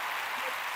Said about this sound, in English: Let's give our audience a round of applause